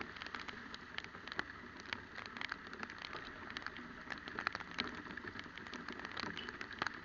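Steady rain patters on a car while driving, the first rain of 2024, a continuous dense drumming of drops with faint scattered ticks, moderately loud and without talk.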